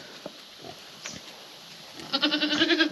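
Goats on a farm, adults and kids, bleat in a short loud burst near the end after quiet scattered shuffling and faint calls.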